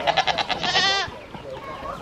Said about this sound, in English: There's the goats.